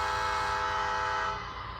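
An MTH Christmas toy train sounds its electronic horn in one sustained, loud chord-like blast that holds steady and then drops off near the end.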